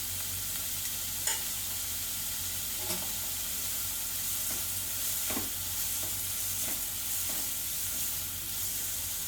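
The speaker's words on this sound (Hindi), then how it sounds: "इसमें मैं हरी मिर्ची डाल रही हूँ" A green chili fries in a pan of veg keema masala while it is stirred: a steady, close sizzle with occasional soft scrapes and clicks of the spoon against the pan.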